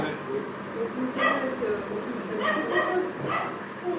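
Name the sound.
dogs barking nearby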